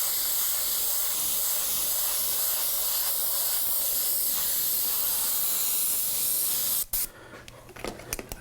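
An airbrush sprays paint onto a T-shirt in a steady, close hiss for about seven seconds, then cuts off abruptly, leaving a few light taps and handling sounds.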